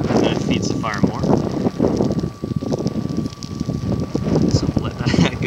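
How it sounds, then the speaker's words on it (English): Strong wind blows across open ground at a campfire site in loud, roaring gusts with rustling. Someone talks over it throughout. "It's really windy out here in the open"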